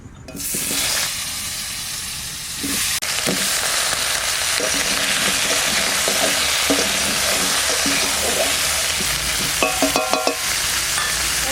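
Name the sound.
potatoes frying in oil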